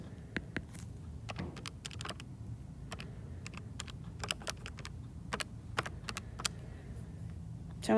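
Rapid keystrokes on a keyboard entering numbers, a dense run of close, crisp clicks and taps over a low steady background hum.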